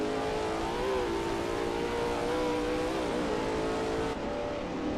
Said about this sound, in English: Narwhal is expertly commanding that car through turn 6.